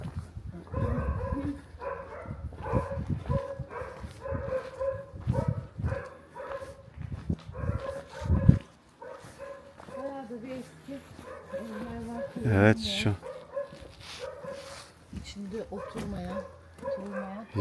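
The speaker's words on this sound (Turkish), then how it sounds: "Köpekler avlıyor." Dogs bark repeatedly in the distance, mixed with a few yips, in the old Greek village of Kumyaka near Bursa, Turkey, while people talk nearby throughout.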